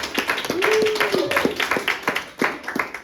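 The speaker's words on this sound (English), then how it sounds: "Give yourselves a big hand just for being here today." A workshop audience on healthy pregnancy and birth claps steadily for about three seconds, a moderate ragged patter of hands with a voice rising briefly over it.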